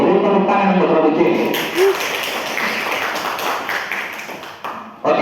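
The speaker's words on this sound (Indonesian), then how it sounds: "Beri tepuk tangan untuk regu C" Applause at a school quiz contest, a burst of audience clapping that swells after a brief spoken announcement and then fades, with a voice speaking near the end.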